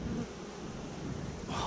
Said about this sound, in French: Les abeilles sont belles. C'est calme.